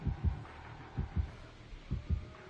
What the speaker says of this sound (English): So, heartbeat just went away.